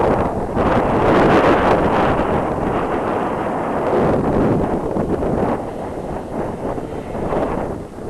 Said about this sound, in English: Ooh, lots of wind.